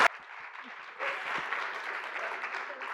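A classroom audience applauds a group's budget presentation: a sharp sound at the start, then a quiet gap before moderate, steady clapping from a modest group fills the remaining couple of seconds.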